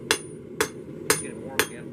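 A blacksmith hammers hot steel at the tip on the edge of an anvil: four sharp, ringing metallic strikes at an even half-second rhythm, close and distinct with quiet between blows.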